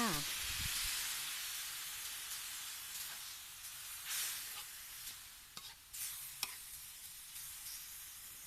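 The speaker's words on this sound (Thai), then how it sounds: "พอหมูเริ่มสุกดีแล้วนะคะก็ให้เติมน้ำเปล่าลงไปค่ะ" Plain water added to pork belly cooking in a pot for a spicy curry sets off a steady, faint hiss and sizzle that lasts throughout, with a few soft clinks and stirring sounds.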